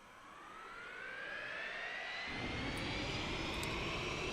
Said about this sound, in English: And there starts the engine.